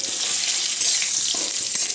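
Bay leaves and split green chillies frying in oil make a steady, close, hissing sizzle with light crackling throughout, and nobody speaks.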